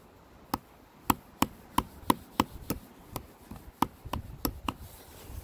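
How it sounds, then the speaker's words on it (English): A dozen or so sharp hammer taps driving a tap into a maple tree, fairly close and evenly spaced, then quickening into lighter taps at the end, with no voices. "I'm going to put it into the hole and I'm going to hammer it."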